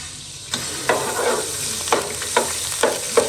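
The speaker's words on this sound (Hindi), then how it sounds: "यहाँ पे मैंने घी थोड़ा सा ले लिया 4 चम्मच, और यहाँ पे लहसुन अदरक का पेस्ट ऐड कर दिया इसमें" Garlic ginger paste fries in about four spoons of hot ghee with a steady, close sizzle, broken by several sharp stirring scrapes spaced across the clip.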